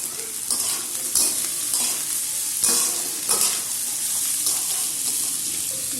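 Chopped carrot, capsicum and onion are stir-fried for chowmein, with a loud continuous sizzle broken by repeated scraping stirs of the spatula against the pan.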